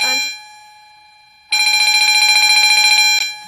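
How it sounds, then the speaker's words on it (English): Division bells in Queensland Parliament House ring in a loud, continuous electric trill for about two seconds after a faint fading tone and a pause, then stop abruptly. "as you can hear that the bells are ringing in the Parliament House"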